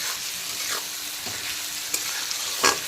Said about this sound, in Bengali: টমেটো আর চেরা কাঁচা লঙ্কাটাকে ভালো করে পেঁয়াজের সঙ্গে ভেজে একেবারে কষিয়ে নেব